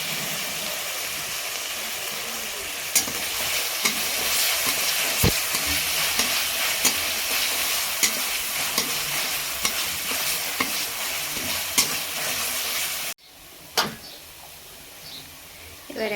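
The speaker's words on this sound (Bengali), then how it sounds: "পেঁয়াজটা অল্প অল্প ভাজা হয়ে আসলে এর মধ্যে আমরা দিয়ে দেবো আদা রসুনের পেস্ট" Onions sizzle and fry with ginger garlic paste in a pan while a utensil stirs and scrapes through them, a steady loud hiss with intermittent clicks before a brief pause near the end.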